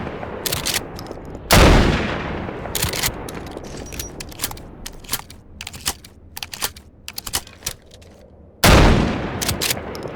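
Shotgun blasts in Garry's Mod, two loud, heavy booms several seconds apart, with quieter clicks and clatter between them.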